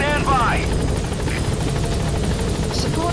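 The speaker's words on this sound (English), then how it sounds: "Support helicopter has arrived." A support helicopter arrives in Metal Gear Solid 5 with a loud, steady rotor chop beating throughout, while a voice speaks over it.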